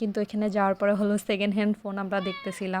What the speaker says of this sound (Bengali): ও আমার পাশে বসে ম্যাও করতেছে